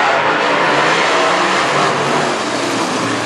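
WISSOTA late model race cars at Granite City Speedway roaring together in a heat race, a loud continuous wash of engine noise from the pack of cars with no talk over it.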